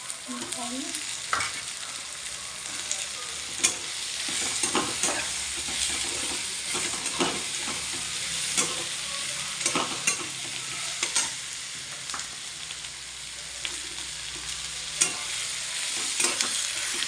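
Chopped ivy gourd (tondli) sizzles and fries in a pan with masala and chilli powder while a spoon stirs it, producing steady crackling under repeated close scraping clicks, with no speech.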